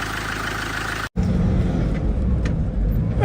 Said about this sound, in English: here we are out in this 2009 Defender 110 TDCi XS Station Wagon 7-seater, and I have to say it's driving incredibly well